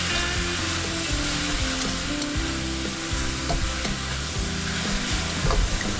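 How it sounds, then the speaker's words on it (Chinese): Cabbage in sweet and sour sauce thickened with starch, stir-fried hard in a wok over high heat, with steady loud sizzling and repeated scraping, clanking strokes of the spatula throughout. "快速翻炒收汁。"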